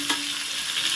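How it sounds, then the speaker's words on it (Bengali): Pointed gourd being stirred as it fries in oil in a wok: a brief scrape at the start, then a steady, close sizzling hiss. "পটলটা ভাজা হয়ে গেছে, দেখুন লাল লাল করে আমি নেড়ে চেড়ে ভেজে নিয়েছি।"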